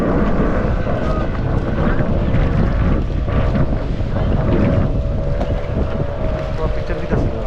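A boat ride out on the water, with a steady, loud rush of wind buffeting the microphone and a low motor-like rumble underneath, continuous throughout and free of clear talk.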